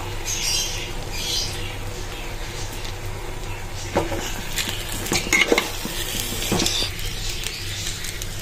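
Washed lentils and rice go into frying spices in a pot, with a low sizzle underneath. A metal spoon scrapes and clanks against the pot in short, uneven strokes toward the end.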